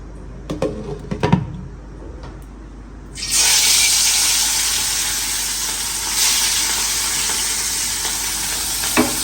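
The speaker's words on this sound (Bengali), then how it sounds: "আর এখানে হলো আমি মাছ ভাজবো" Hilsa fish frying in a pan: a few clinks and knocks, then a loud, steady sizzle bursts up and holds, close by, with no talking.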